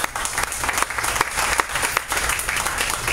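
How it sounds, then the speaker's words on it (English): An audience at a lunch event in a Miami Beach restaurant breaks into steady, dense applause, many hands clapping at close range for the full few seconds. "Big round of applause for them."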